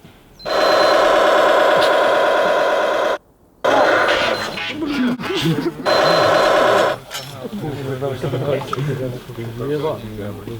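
A laser tag gun fires in trench combat training, giving loud sustained electronic tonal bursts, a short pause, then another burst, with people talking in between.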